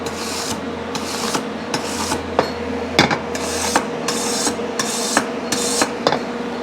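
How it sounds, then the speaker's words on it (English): A stainless steel brush scrubs the frame of a Suzuki RM250 motorcycle in loud, close, rhythmic rasping strokes, about a dozen in a row with brief gaps and sharper metallic knocks between them. "So use a stainless steel brush. I'm just going to go back over it again."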